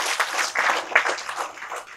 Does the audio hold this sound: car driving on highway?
no